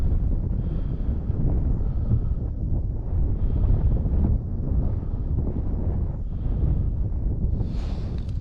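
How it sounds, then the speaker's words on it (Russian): Wind on the Pechora River during spring ice fishing buffets the microphone in steady low roaring gusts, with a faint airy hiss rising and falling throughout. "Опять поднялся ветер."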